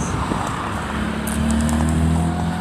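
A steady, rumbling Cupra exhaust with aftermarket pipes drones on continuously, loud and close, with crackly high-frequency bursts scattered near the end.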